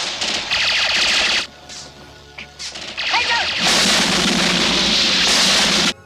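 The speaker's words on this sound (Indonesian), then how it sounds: "Namun naas, ledakan terjadi dan menghanguskan jembatan." An explosion destroys a bridge: a loud, harsh burst of crackling blasts and rumble, falling briefly quieter before a sustained, roaring wash of destruction noise that fills the rest.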